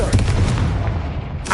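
Confringo fire spell blast in the video game Hogwarts Legacy; a loud, booming burst with rumbling, crackling layers that holds for a moment before fading, followed by a brief sharp flare at the end.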